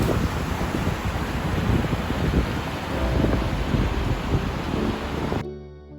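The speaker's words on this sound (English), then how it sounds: "listening to the gushing water and witnessing the magical views around." Steady broadband rush of a gushing river on the road to Nathula Pass in Sikkim, continuous and fairly loud with some wind buffeting, cutting off abruptly near the end.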